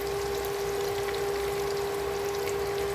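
Onion frying in a pan for a chicken dish, a steady close sizzle running without pause, with a constant tone sitting under the crackle.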